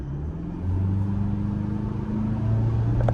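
Toyota Hilux 48V mild-hybrid Raider 4x4 with a GD-6 diesel pulling hard under full throttle, a steady low engine drone rising in pitch as it gains speed, heard from inside the cab with no talking.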